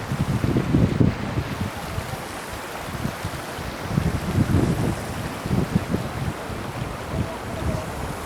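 Cold gusting wind blows by mountain water in Kumrat Valley, Pakistan, buffeting the microphone in loud, uneven low rumbles that rise and fall over a steady rushing background.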